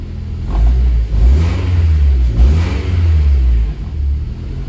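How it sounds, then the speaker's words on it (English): Honda Civic with a swapped K20A Euro Type R engine revving in a couple of rising, falling blips over a steady rumbling idle, close and loud. "Let's give it a couple revs."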